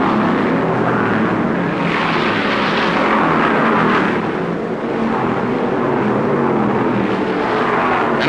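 Stock cars at the 1964 Southern 500 at Darlington, running over 100 miles an hour under caution, give a loud, steady engine roar that holds throughout with only slight swells.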